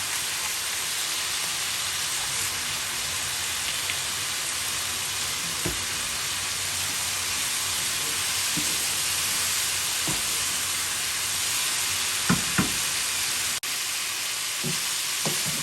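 Chicken frying in a pan with black pepper added gives a steady, close sizzle throughout, with a few light scrapes and taps of a utensil against the pan.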